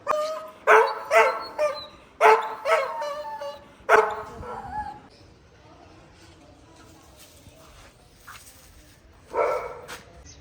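Several dogs bark loudly in bursts at a veterinary hospital where other dogs are getting injections, sharp close barks and yips in the first half, then quieter whimpering and a final bark, with voices faintly in the background.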